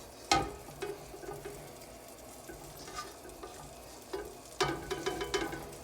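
Browned andouille sausage and tasso being scooped out of a frying pot, with quiet sizzling fat and a few sharp metal spoon scrapes and clinks against the pot, near and fairly soft.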